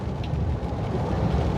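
Heavy rain pouring steadily in a Thai village during the rainy season, a dense, loud, continuous hiss with no talking.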